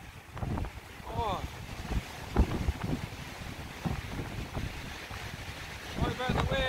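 Wind gusts blow steadily outdoors around a cabin, a broad rushing that buffets the microphone throughout, with people talking and short bird-like whistles over it.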